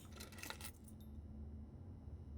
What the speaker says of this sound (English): A spare set of car keys.